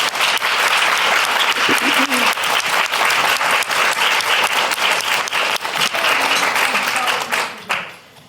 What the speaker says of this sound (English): Please join me in giving all our sponsors and supporters a huge BFF round of applause.